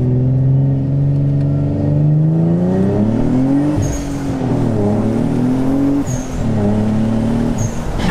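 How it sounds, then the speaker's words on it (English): A built twin-turbo Infiniti G35 makes a full pull on a dyno, its loud engine note climbing steadily in pitch with brief dips and high turbo whistles, running close and unbroken throughout. "Let's give a nice little pull."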